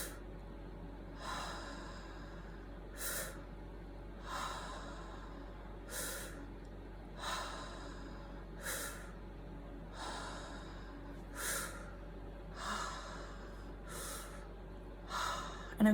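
A guided fast breathing exercise with quicker inhales and natural exhales: about a dozen evenly spaced, close, breathy puffs repeat every second or so against a quiet background.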